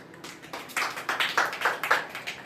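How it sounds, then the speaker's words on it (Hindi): A church congregation claps in a quick run of bright, fairly distinct hand claps, starting soft and swelling to a steady patter of individual beats, at moderate distance with no talking. "चलो भाई, एक बार ये दीदी के लिए तालियां बजाओ।"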